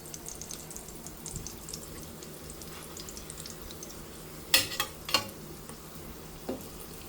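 A lachha paratha, just flipped, cooks in a pan over low heat with a soft, steady sizzle. A few sharp scraping clanks from a spatula stand out near the middle, and no one speaks.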